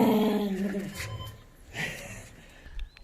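Lucy the dog growls and whimpers in low, rumbling bursts, close by, mixed with people talking.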